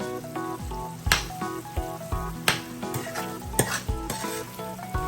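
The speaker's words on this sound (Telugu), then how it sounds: "మన చింతపండు రసంలో ఆల్పినోస్ మగ్గుతున్నాయన్నమాట" Jalapeños simmering in tamarind juice in a pan, a steady bubbling sizzle with a spoon scraping and stirring through it in several clear knocks and strokes, close and alone without voices.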